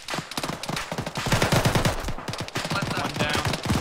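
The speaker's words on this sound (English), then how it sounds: "I heard some weapons fire." Rapid bursts of automatic gunfire in ArmA 3, sharp repeated cracks in quick rhythmic strings, loud and close, continuing for several seconds with a faint voice beneath.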